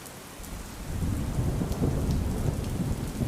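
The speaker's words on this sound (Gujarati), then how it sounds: "અમદાવાદના અનેક વિસ્તારોમાં વરસાદી છાંટા અને ધીમી ધારે વરસાદ છે તે જોવા મળી રહ્યો છે।" Steady rain falls across Ahmedabad with a low rumble of thunder rolling underneath, close and continuous, with no voices.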